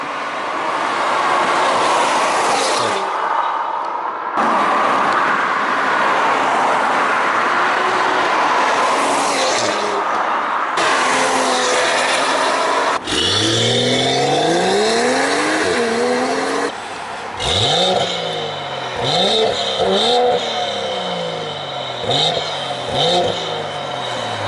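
BMW M240i xDrive with all-wheel drive, engine roaring loudly under hard acceleration with rising and falling revs through gear changes, close and continuous, tires squealing at times.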